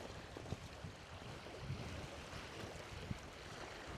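Wind blows steadily across the open shore of Flagstaff Lake, Maine, with buffeting gusts against the microphone, and water laps faintly in the background.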